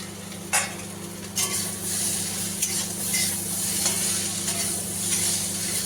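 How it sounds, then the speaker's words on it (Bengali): Ivy gourd (kundru) frying in a pan, a soft continuous sizzle under a low steady hum, punctuated by a few sharp spatula scrapes and clinks, close but quiet, no voices. "কুঁদরু আমি ভাজা বসিয়ে দিয়েছি অলরেডি"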